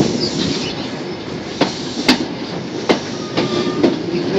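A train rolls across the single-track bridge over the River Tamar, heard from inside the carriage. A steady rumble is broken by several sharp clacks from the wheels over rail joints.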